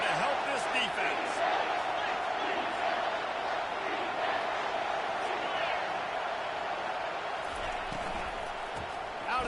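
Loud stadium crowd roaring steadily through a third-down play at a college football game, Louisiana Ragin' Cajuns against Ole Miss, a dense sustained wall of cheering and yelling with no letup.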